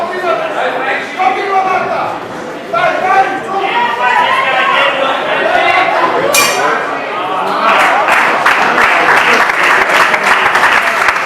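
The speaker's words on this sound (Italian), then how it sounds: "Complimenti e l'applauso." Applause breaks out after a fencing final in Verona, first mixed with crowd chatter and clinking, then swelling into dense, sustained clapping.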